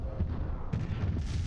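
Laser cannons fire during tactical space combat in the Master of Orion video game, giving a series of dull, booming shots at an irregular pace under a steady background hum.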